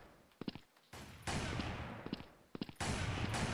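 Sniper rifle fire in the mobile shooter Blood Strike: several sharp, loud shots in quick bursts, each followed by a long noisy roar of reverb or action that fills the gaps between reports.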